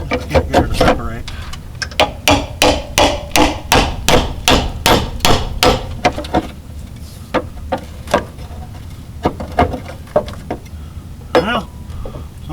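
Loud, rapid hammer blows strike metal engine parts on a 4WD Daytona during engine removal, a fast run of about a dozen sharp whacks, then a pause and a few scattered hits, with a voice talking between them.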